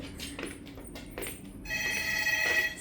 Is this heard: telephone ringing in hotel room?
yes